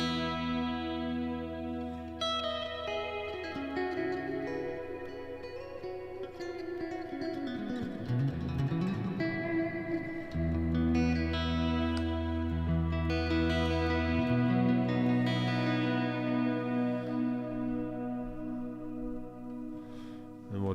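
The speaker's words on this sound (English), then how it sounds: "let's add in another reverb. It's going to be a shimmer" Electric guitar run through a shimmer reverb set to a bright, high pitch shift, with sustained chords blooming into a wash of rising, octave-up harmonics and long, swelling tails, loud and close, with no talk.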